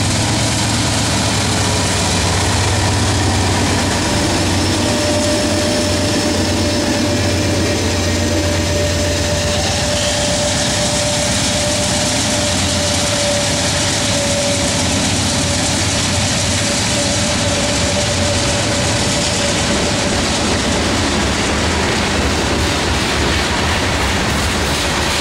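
Norfolk Southern manifest freight train led by Dash 9 diesel locomotives passing Charlotte Junction, a steady loud rumble of engines and rolling cars with a sustained tonal whine, continuous for the whole stretch with no talk.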